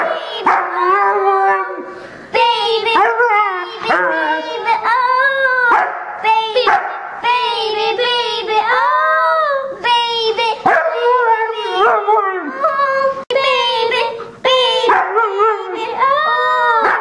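A husky howls and yips along to a pop song, its long wavering howls rising and falling in repeated phrases over the music, loud and close.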